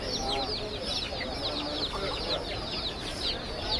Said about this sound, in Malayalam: നാടനാവട്ടെ മുട്ടക്കോഴികൾ എല്ലാ ഐറ്റം കോഴിക്കളും ഇവിടെ ഉണ്ട്